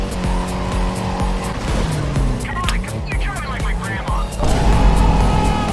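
A race car in the video game Need for Speed Carbon revs its engine hard while the tires squeal and skid, loud and close, with the engine pitch climbing and falling.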